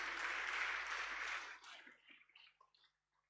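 Church congregation applauding for the Lord during a Spanish-language worship service, a dense burst of clapping for about a second and a half that thins into scattered claps and fades out.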